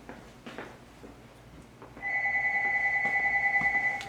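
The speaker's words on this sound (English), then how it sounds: "I'm going to have to just ignore this phone." In a treatment room, a phone starts ringing halfway through with a steady electronic two-tone ring that pulses loudly and continuously after a quiet start.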